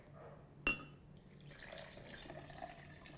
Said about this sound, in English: Next, I'm going to add in 2 cups of water